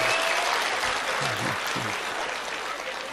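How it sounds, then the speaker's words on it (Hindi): Audience applause at a Hindi poetry recital fills the hall, a dense, continuous wash of clapping, loud and steady, with faint voices beneath. "हाँ ताली बजाओ"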